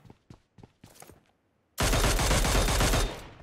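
Gunfire in the mobile battle royale game PUBG Mobile: a few short, scattered pops and footsteps, then a loud, dense sustained burst of automatic fire lasting over a second before tapering off.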